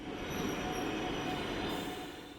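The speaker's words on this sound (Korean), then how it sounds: "오늘 저는 기차에 몸을 싣고 봄바다를 향해 떠나려 합니다." A passenger train carries riders from Cheongnyangni Station in Korea, heard from inside the carriage as a steady, close rumble of wheels on rails with a faint high whine, and no voices.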